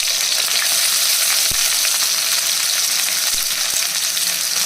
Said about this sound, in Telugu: ఇప్పుడు మనం కట్ చేసి పెట్టుకుని ఉల్లిపాయ ముక్కలు వేసుకోవాలి.